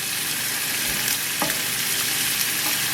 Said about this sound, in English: I've got my bacon, 4 ounces of bacon cooking.